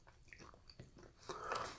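Crisp crunching and chewing of an Indonesian seaweed-flavoured chip, close and intimate, a series of irregular bites and crunches building louder toward the end, with no talking.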